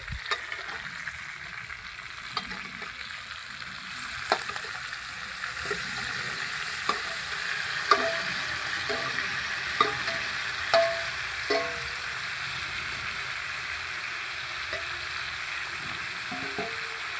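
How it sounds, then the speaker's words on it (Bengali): Soybeans, potatoes and spices sautéed together in a pan, with a steady sizzle and repeated scraping strokes of a spatula at an unhurried rhythm. "এবার সব একসাথে আমি কষাবো আলুর সঙ্গে আলু সয়াবিন মশলা একসঙ্গে কষিয়ে নেব"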